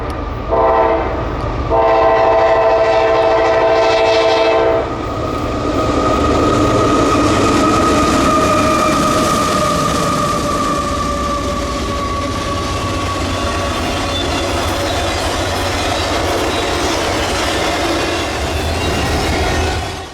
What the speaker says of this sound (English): We see daily stack train IDAAT with a gray leading the train into the sunrise.